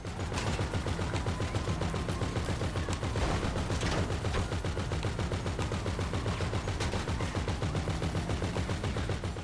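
Rapid automatic gunfire in the video game GTA V, dense bursts of shots rattling continuously in a fast, even rhythm, loud and sustained.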